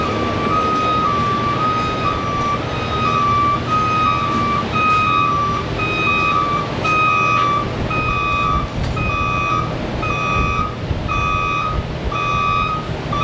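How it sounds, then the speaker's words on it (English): A truck's backup alarm beeps over and over in a steady, even rhythm, loud and insistent against a constant rumble of engine and shop noise, heard from inside a car repair shop. "I'm hearing this incessant backup alarm thing"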